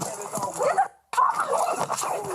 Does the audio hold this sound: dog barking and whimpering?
yes